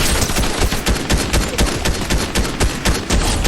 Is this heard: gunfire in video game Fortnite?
yes